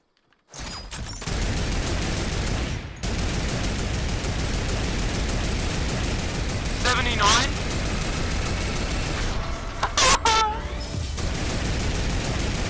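A mounted turret fires continuously in Fortnite, a loud sustained stream of rapid gunfire with brief gaps and sharp bursts, while a player talks over it.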